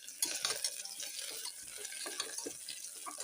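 Onions sautéing in a pan, a soft, fairly quiet sizzle with intermittent stirring scrapes and small bursts close by.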